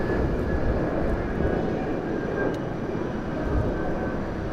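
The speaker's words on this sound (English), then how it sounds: "Looks like an Embraer 190 as well going into London City" An Embraer 190 jet airliner passes overhead on approach to London City, a steady broad roar with a faint engine whine, continuous and moderately loud.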